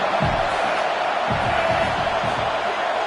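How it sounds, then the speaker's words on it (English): Stadium crowd roaring steadily in an NCAA football video game, a dense continuous wash of cheering and shouting that never lets up, with faint thumps underneath. "This crowd trying to make life miserable for this offense."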